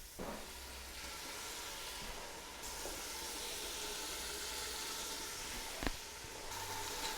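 Garlic paste and dogfish steaks frying in a pan give a faint, steady sizzling hiss that runs unbroken, with a soft clink partway through.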